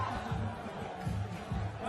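Arena crowd at a 3x3 basketball university league final in Xiamen, China, roars in a steady swelling wash with pulsing surges, far and diffuse.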